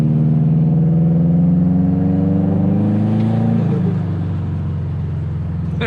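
A Subaru Legacy GT with a large exhaust leak at the mid-flange gives a loud, steady, deep exhaust rumble that holds nearly constant, then dips slightly in pitch as the engine settles.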